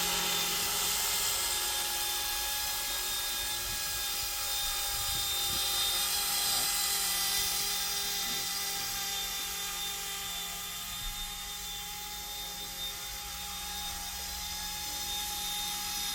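A Carrera Profi RC Red Bull BO 105 C ready-to-fly model helicopter hovers nearby with a steady, high-pitched motor and rotor whine that holds constant throughout, with no talking.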